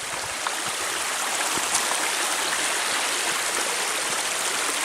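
A stream flows steadily along the Black Forest Trail, a full, even rush of water close by with no voices.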